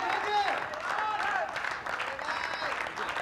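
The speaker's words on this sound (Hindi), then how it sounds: "ये जो तालियों की गड़गड़ाहट है" Crowd applause and cheering at a Ranji Trophy cricket match between Uttar Pradesh and Karnataka, a steady, dense wash of clapping that holds for several seconds, with commentary talk mixed in.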